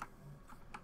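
Keystrokes on a new computer keyboard during a Terraria game session, a steady run of close, fairly quiet clacks with a few sharper taps near the end and no talking.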